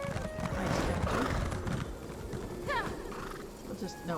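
Horse hooves clip-clopping in the Wrothgar region of Elder Scrolls Online, steady mid-level footfalls with a whinny, under a player talking.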